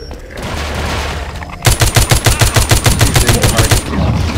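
Loud gunfire from The Walking Zombie 2 video game opens abruptly after a muffled lead-in. It is a rapid, evenly spaced automatic burst of about a dozen sharp shots lasting roughly two seconds, followed by a rumbling tail.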